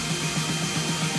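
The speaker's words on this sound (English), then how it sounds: "A hair dryer?" A hair dryer blows in an animated candy-making scene, giving a steady, loud rush of airy noise with a low motor hum underneath that runs unbroken throughout. No voices are heard.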